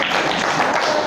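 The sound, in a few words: class audience clapping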